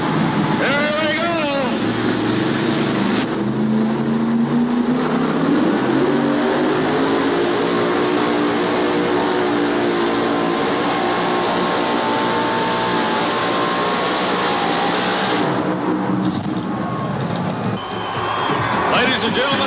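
Super modified two-wheel-drive trucks, Ford against GMC, race at a 1988 Charlotte truck event, a loud sustained engine roar rising in pitch over the whole stretch while crowd noise and an announcer's voice carry over it.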